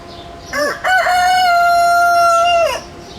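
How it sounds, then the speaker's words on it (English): A rooster crows one long, loud cock-a-doodle-doo close by in a zoo barnyard, rising then holding a drawn-out final note before cutting off. "Look at the pose on the big rooster there."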